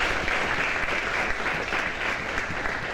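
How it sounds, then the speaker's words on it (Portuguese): Audience applause at a talk event in the Algarve, steady sustained clapping from a crowd throughout, even and dense. "uma salva de palmas também"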